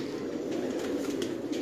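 A Bachchu Miyan breed pigeon coos in a low, steady throaty murmur lasting a brief moment, close and fairly loud, with no talking.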